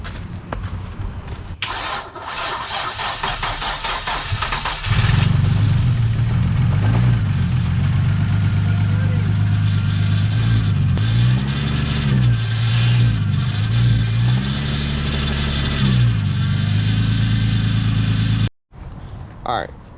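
An Infiniti G35 with a newly installed engine cranks and catches, then idles loudly and runs through several rising and falling revs. It cuts off abruptly near the end, and a voice is heard early on under the engine.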